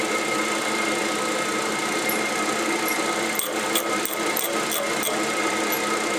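Drill boring into metal on a lathe setup for an MT3 floating reamer holder, a steady machine whir running throughout with a cluster of sharper high scraping bursts partway through, no talk.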